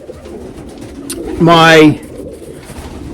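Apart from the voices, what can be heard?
miler pigeons cooing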